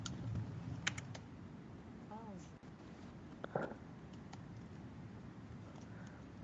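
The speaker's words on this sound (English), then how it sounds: "Calvin, can you type" Typing on a computer keyboard: soft, faint, scattered key clicks under steady background noise, with people talking nearby.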